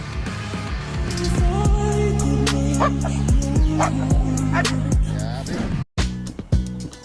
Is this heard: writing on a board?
no